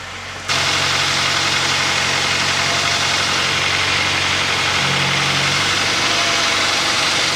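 2020 Jeep Wrangler JL engine starting up and then idling steadily, a loud, close, even rumble with a continuous hum and no talk, heard during a transmission fluid service.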